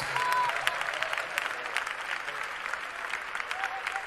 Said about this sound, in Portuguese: pode louvar a Deus, com as palmas bem alegre,